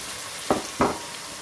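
Potatoes and green peas frying in a pan for vegetable pulao, with two quick stirring scrapes over a low background sizzle.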